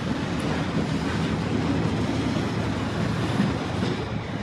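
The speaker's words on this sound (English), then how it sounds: "Let's enjoy the rest of the Waterfront train going by." CPKC 106 Waterfront train, running from Vancouver, British Columbia to Toronto, Ontario, rolls past close by in a loud, steady rumble of railcars with faint wheel clatter and no voices.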